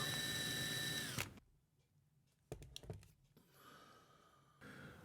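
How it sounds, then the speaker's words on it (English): A small drill with a Vix bit whines briefly at high pitch drilling out a metal post on a Hot Wheels Redline toy car, then stops; clicks, rattles and short mechanical bursts follow before a quieter whir returns. "using my Vix Bits, I'll drill out this single post."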